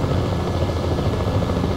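A helicopter in the video game Battlefield Play4Free, on the Oman map, gives a continuous, loud rotor and engine drone that holds steady from start to end.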